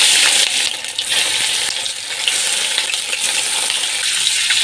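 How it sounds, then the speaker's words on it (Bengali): Bata fish fries in hot mustard oil in a kadai, giving a loud, steady, close-up sizzle with crackling spatter running throughout, no talking. "এইভাবে লাল লাল করে ভেজে নিতে হবে মাছগুলোকে।"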